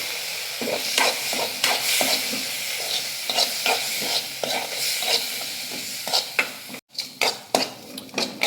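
A spoon scrapes and clinks steadily through fish roe frying with grated coconut in a sizzling pan, close up, with a constant hiss of frying under the stirring strokes and no voices.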